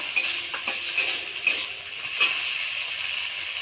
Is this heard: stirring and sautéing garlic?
yes